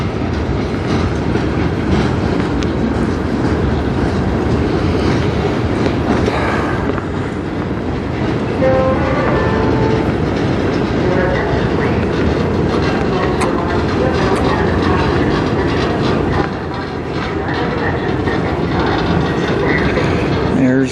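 A CN freight train rolls past in Sarnia, Ontario, a loud steady rumble with rattling wagons and clickety-clack running unbroken throughout, with no clear voices over it.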